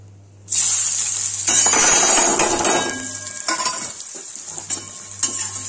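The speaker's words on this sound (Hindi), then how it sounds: "ये रहा तेल गरम हो गया है और इसमें डालेंगे प्याज" Onions hit hot oil with a sudden loud sizzle that keeps crackling steadily, with a few utensil clinks and stirring scrapes.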